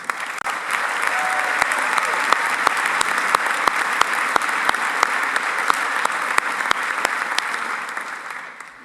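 An audience at a 2023 Walton College honors ceremony breaks into full applause. Crisp, close individual claps stand out over the steady crowd clapping, which swells, holds for several seconds and then tapers off.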